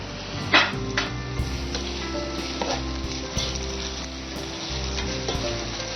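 Onions sauté in ghee and oil with a pinch of salt added, a steady close sizzle with occasional stirring scrapes and a few sharper crackles, no talk over it.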